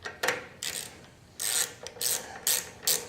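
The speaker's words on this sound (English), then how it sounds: "So I'm going to go ahead and switch out my sockets." A hand socket-set ratchet clicks in quick bursts while sockets are swapped during carburetor work on a Briggs & Stratton 6.5 hp push-mower engine, with loud close rasping ratchet runs separated by short pauses.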